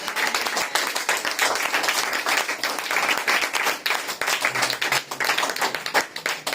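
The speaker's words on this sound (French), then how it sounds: "Que celui qui a le main acclame pour Jésus." A church congregation claps for Jesus, many hands in dense, fairly steady applause with rhythmic surges, filling the room at moderate loudness.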